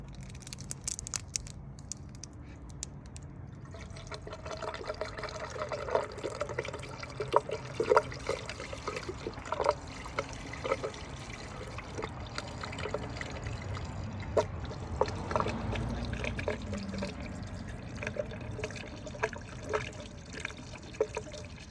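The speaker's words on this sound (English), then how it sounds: "you're going to be pouring it into this reservoir here" Coolant pours into the radiator reservoir of a 2006 GMC Sierra 2500 HD in a steady, close liquid stream that gurgles and trickles for most of the span.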